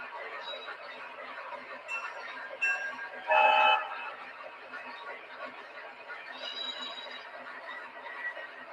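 A K-Line J1E Hudson model train locomotive runs with a steady rolling whir, close and moderate in level, broken by a few short high whistle toots.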